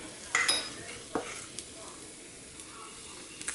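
Ebelskiver batter is scooped into a hot Norpro cast iron pan, giving a soft, faint sizzle broken by a few light clinks of utensil on metal.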